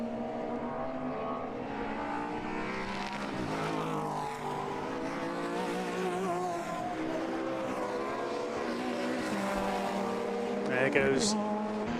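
A Ferrari race car at Donington Park during a Classic Sports Car Club race drones steadily past with a sustained engine roar, while a commentator talks over it throughout.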